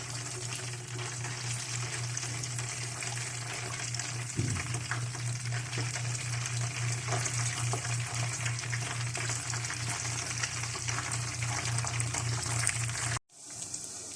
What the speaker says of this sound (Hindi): ऑयल गरम है, इसके अंदर अब हम फ्राई करते जाएंगे।